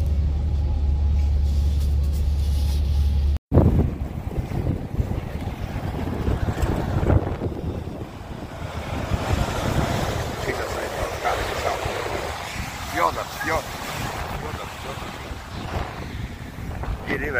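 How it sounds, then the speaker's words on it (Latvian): A strong wind rumbles and buffets continuously on a mountain at Åre, a low, steady roar against the microphone, with people talking nearby. "Ir vējš augšā"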